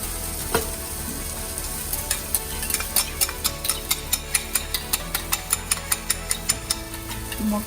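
Chopped onion and cabbage fry in a pan for a cabbage egg poriyal, giving a continuous bright sizzle with a regular stirring tick about twice a second, close and steady, with no voices.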